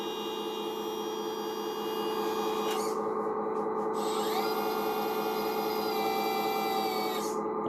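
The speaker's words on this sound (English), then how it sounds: "I'm going to use the right spring-loaded switch to actually move it up." A hydraulic lift raised by a spring-loaded switch gives a steady mechanical whine with a constant hum underneath, shifting pitch partway through as it runs, alone and moderately quiet.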